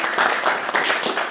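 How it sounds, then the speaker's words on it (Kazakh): An audience at a meeting with a People's Artist of Kazakhstan breaks into applause, a dense, steady patter of many hands clapping close and fairly loud for the whole moment, with no voices over it. "Қол шапалақтап қойсаңыз"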